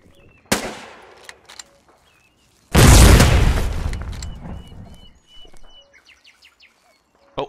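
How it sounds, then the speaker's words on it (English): Mortar fire and explosions in the war game Foxhole: a sharp blast, then a loud, long booming explosion that rumbles and fades, followed by scattered faint pops and distant gunfire. "I think they're firing mortars into the base"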